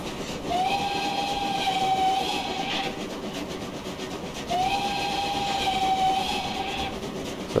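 Two long, clear blasts from a BR78 4-6-4T steam locomotive's alternate-tune whistle in Train Simulator Classic, each lasting about two seconds and separated by a pause, over a steady rail rumble.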